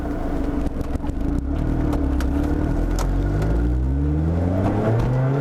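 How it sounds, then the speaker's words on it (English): A Lotus Elise S sports car drives on a UAE road, its engine droning steadily and climbing in pitch as it accelerates through the gears, loud and continuous with wind noise and no talk. "It was me driving a Lotus Elise S in the UAE on my favorite road."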